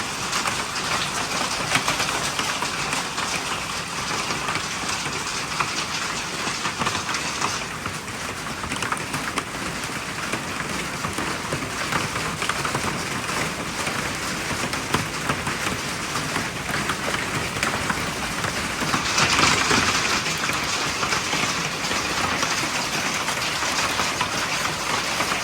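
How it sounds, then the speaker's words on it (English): Hail falling after a downpour, a dense, steady hiss of pelting ice on surfaces lasting throughout, with a brief surge in intensity near the end and faint birdsong behind it. "and we got hail."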